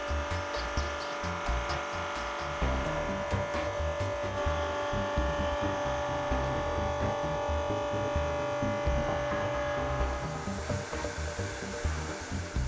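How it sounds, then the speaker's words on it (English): A BDS MAB-825 V magnetic drilling machine feeds slowly into metal, giving a steady motor whine and hum with a rough, throbbing grind of the cutter, continuous and close for the whole stretch. "switch the feed motor on and use the grey rotary knob to set the feed rate so that the machine is slowly fed into the material"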